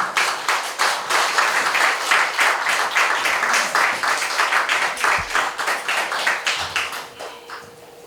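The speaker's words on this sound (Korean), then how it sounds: "큰 박수로 맞이하겠습니다." Concert audience in Buknseong-ro applauds at an outdoor humanities and arts concert, a dense, loud burst of many hands clapping in rapid patter that tapers off toward the end as performers are welcomed to the stage.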